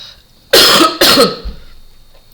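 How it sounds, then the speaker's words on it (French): Two harsh coughs in quick succession, close and fairly loud, followed by quiet. "Je tousse encore un peu"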